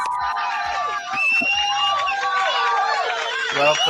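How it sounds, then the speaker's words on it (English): An audience at a stage event cheers, whoops and shouts in a dense, loud wash of many voices, while a voice speaks briefly over the crowd noise. "Let's give her a round of applause."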